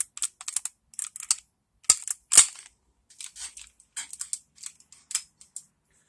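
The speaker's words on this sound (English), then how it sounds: "you can hear that spring bind." A rapid series of metallic clicks and snaps as a gun action is cycled repeatedly by hand with a stiff, binding recoil spring, crisp and close, in irregular bursts with brief pauses.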